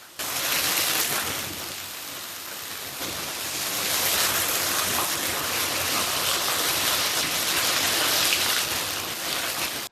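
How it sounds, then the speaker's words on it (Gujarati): Heavy monsoon rain pours steadily in Ahmedabad, a dense, loud hiss of water hitting surfaces with no breaks. "ગજબ વરસાદ આવે છે અમદાવાદમાં."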